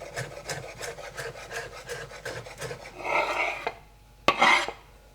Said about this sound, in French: Je vais hacher également un petit peu d'aneth.